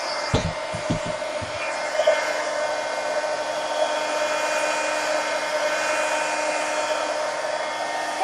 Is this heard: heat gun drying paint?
yes